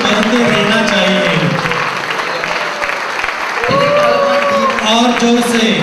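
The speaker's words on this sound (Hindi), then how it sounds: "तालियां बजते रहना चाहिए" Audience applause at the release of an audio CD and song book, steady clapping throughout with voices and a few tonal sounds mixed in.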